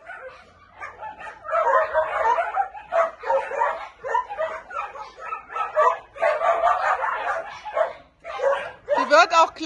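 A very small female puppy yips and barks in quick, high-pitched bursts close by, with whimpering between them, while people talk over it throughout.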